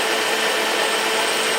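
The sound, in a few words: antique lathe cutting a taper for a weld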